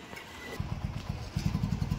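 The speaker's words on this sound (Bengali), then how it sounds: "উঠে বসো, বাইক আসছে।" A motorcycle approaches, its engine first faint, then a pulsing, chugging putter that grows louder and closer over the last second and a half.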